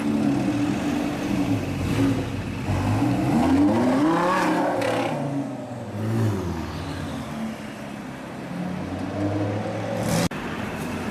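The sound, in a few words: chrome green Lamborghini Gallardo driving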